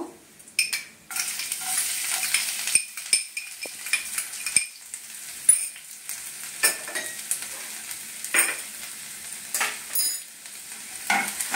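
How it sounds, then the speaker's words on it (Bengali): Chopped garlic fries with dried red chilli in a pan, a soft sizzle broken by repeated spoon stirs and light clinks of cutlery against the pan. "রসুন কুচিগুলো ততক্ষণ পর্যন্ত নাড়বো, একটু হালকা ব্রাউন কালার এসে যাবে"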